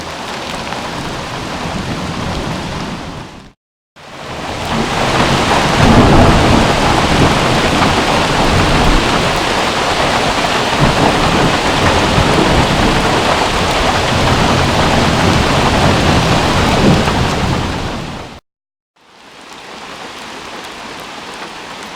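A heavy thunderstorm on a summer hike, with dense, loud rain roaring close and continuously under rumbling thunder, broken by two short silent gaps.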